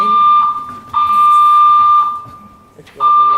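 A fire alarm in a meeting room during a public hearing sounds loudly as a steady, piercing electronic tone with buzzing overtones. It briefly drops and surges back, while a murmur of voices carries underneath.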